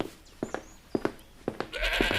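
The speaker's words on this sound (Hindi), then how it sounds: "तभी एक बकरी का छोटा मेमना उछलते हुए आता है" A young goat kid bleats in short repeated calls, close and clear, with a rustling, louder stretch of outdoor noise toward the end.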